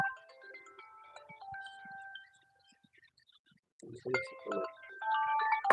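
A phone ringtone plays an incoming call as a faint electronic melody of stepped tones, pausing briefly and then resuming with busier overlapping notes alongside some low rustling.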